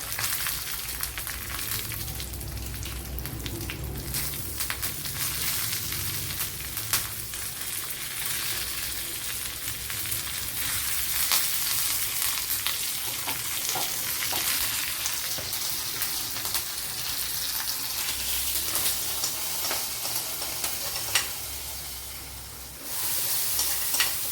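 Dried red chillies sizzle in a hot anchovy curry, a steady, loud crackling hiss that runs unbroken for the whole stretch, with no voices.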